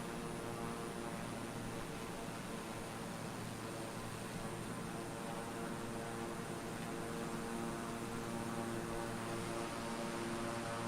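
A King Air 350 propeller aircraft drones steadily in a flight simulator game as the throttle is eased back. The engine hum holds at a constant, unbroken level throughout.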